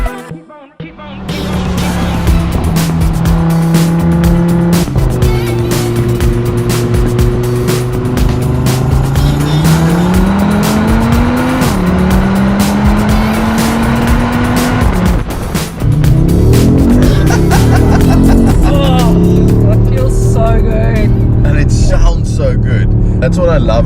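An Audi RS3 Sportback's 2.5-liter five-cylinder engine roars loudly and continuously, its pitch climbing and dropping through gear changes as the car accelerates close by.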